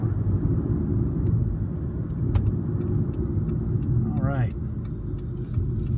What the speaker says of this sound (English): Drivability is very nice. It's nice and quiet.